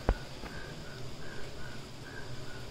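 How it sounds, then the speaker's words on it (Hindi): Faint, rhythmic croaking of frogs repeats at regular intervals in the distance over a low background hum during a windy cyclone, opened by a single sharp knock. "आपको मेंढक की आवाज आ रही है"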